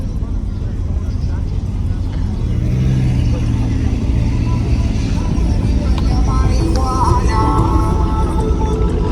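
A Porsche pulls out of a Miami car meet, its deep engine rumble steady and close throughout, with voices chattering nearby.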